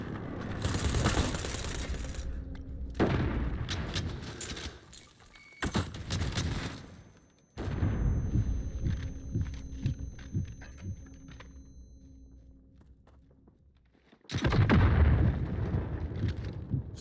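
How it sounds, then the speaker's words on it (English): Airstrike explosions in a video game: heavy booming blasts in several loud bursts separated by sudden drops to near silence, with rumbling tails and crackling debris between impacts. "Enemy precision airstrike. Take cover."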